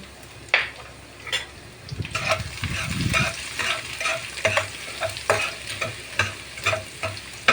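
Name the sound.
garlic sautéing in a pan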